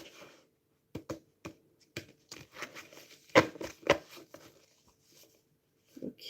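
A deck of cards is shuffled up close, giving a scattered run of crisp flicks and snaps followed by softer riffling, with no talking.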